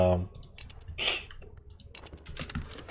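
A computer mouse clicks repeatedly while Cultist Simulator is played, giving a string of short, sharp, close taps over a soft background.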